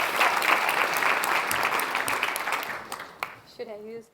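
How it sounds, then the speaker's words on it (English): Dense, steady applause from a conference audience fills a plenary hall at a European Commission climate and health event, then fades as a voice begins speaking near the end. "can we have a big round of applause for Elena Višnar Malinovská?"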